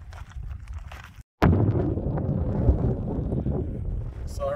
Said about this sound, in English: I know it's windy, but just bear with us.